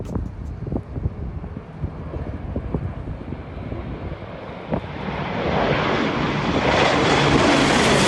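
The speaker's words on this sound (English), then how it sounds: "This plane flying low in a really sharp turn." An airplane flying low through a sharp turn, its engine roar swelling steadily and growing louder toward the end, mixed with gusty wind buffeting the microphone, with no voices.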